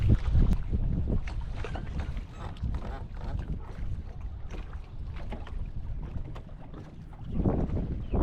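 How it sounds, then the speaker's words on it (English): Wind gusts roar across the microphone on open water around an engineless sailboat, swelling loudly at the start and again near the end, with lulls between. "this wind is bouncing around. I'm about to get hit by a gust"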